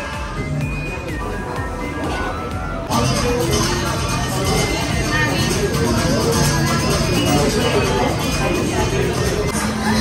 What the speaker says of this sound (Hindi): धीरे धीरे भीड़ बढ़ती जा रही है